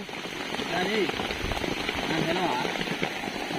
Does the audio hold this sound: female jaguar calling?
no